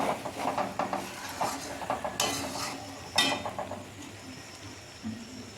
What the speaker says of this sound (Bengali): হলুদ গুঁড়ো লঙ্কা গুঁড়োটা দিয়ে এখন অনেকক্ষণ ধরে এরকমভাবে নেড়ে দিয়ে নিচ্ছি